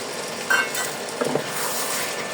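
Boiled potatoes are sautéed with cooked meat in a pan, a brief burst of sizzling with a couple of stirring scrapes against the pan, fairly close and without talk.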